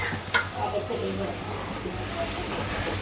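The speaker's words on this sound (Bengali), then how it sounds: "কষিয়ে নেব। এই যে দিয়ে দিচ্ছি সব রকম মশলা।" Spices are sautéed in a pan, with a soft, continuous sizzle and occasional stirring scrapes close by, under a person speaking.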